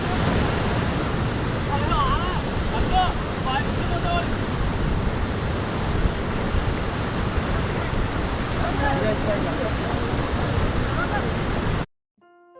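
Kanthanpara waterfall in Wayanad, Kerala, roars as a constant broadband rush, with faint voices in the background, then cuts off near the end.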